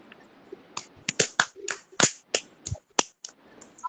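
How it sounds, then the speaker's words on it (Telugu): Two children in a school class clap in sharp, separate smacks, an irregular run of about a dozen hand claps, close and fairly quiet, with no talking. "గట్టిగా క్లాప్స్ కొట్టాలి"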